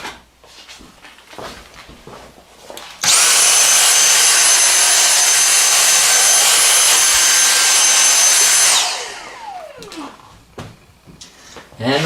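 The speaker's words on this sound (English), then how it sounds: "Then we'll take that mess and vacuum it out of there." A vacuum cleaner switches on abruptly and roars at a steady high whine for about six seconds, sucking debris out of a wood stove, then winds down; clattering and handling noises surround it before and after.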